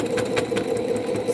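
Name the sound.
sewing machine running loudly while binding a quilt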